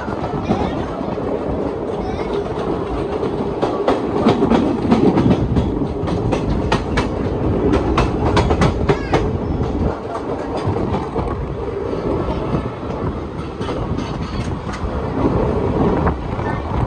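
The Hyderabad–Vasco da Gama Express rushes past fast and close, a loud roar of wheels with rapid rhythmic clickety-clack beats and wind noise over the microphone, while a voice speaks underneath.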